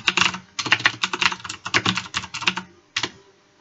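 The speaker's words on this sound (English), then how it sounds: "press the Windows key and R and type in control color" Rapid keystrokes on a computer keyboard come in close, fairly loud bursts, with a short pause before one last clatter of keys.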